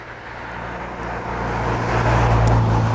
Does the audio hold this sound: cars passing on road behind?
yes